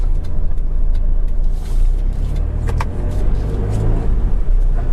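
A 2500 cc Isuzu D-Max SLX pickup truck is driven at night, giving a steady low engine and road rumble heard from inside the cab, with faint clicks and rattles over it.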